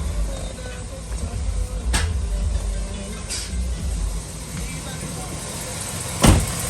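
A Chevy Suburban or Tahoe LS V8 engine idling steadily in a shop after rear main seal and transmission work, a low continuous rumble with a few clanks and a thump near the end.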